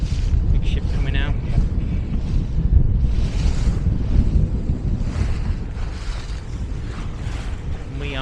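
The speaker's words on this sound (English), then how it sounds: "The wind's picked up a bit" Strong wind buffets the microphone aboard a sailing boat at sea near a big ship, a loud steady roar with rumbling gusts and waves and surf washing around the hull, and faint bits of talk in the first seconds.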